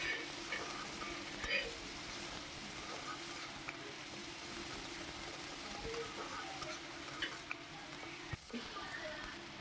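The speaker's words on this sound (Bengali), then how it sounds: "দিয়ে দিচ্ছি কুচনো পেঁয়াজ। পেঁয়াজটা দিয়ে আমি ভালো করে ভেজে নেব।" Chopped onions fry in a pan of hot oil tempered with nigella seeds, giving a quiet, steady sizzle and hiss with faint crackles throughout.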